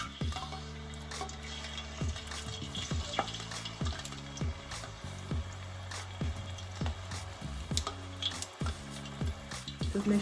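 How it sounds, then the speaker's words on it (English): Turkey breast pieces frying in hot oil, a continuous sizzle under a repeating melodic background music track, with occasional stirring clatters and no talk. "you're just frying them to get a crispier outer part of the turkey"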